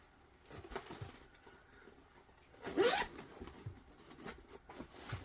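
A zipper on a leather backpack is pulled closed in one quick, close rasping sweep, surrounded by faint handling rustles and soft taps in a quiet room.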